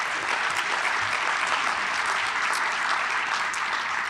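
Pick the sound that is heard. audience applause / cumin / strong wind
audience applause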